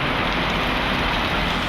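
Heavy rain pours steadily during a thunderstorm, a dense, loud, continuous hiss close by with no distinct thunderclap standing out.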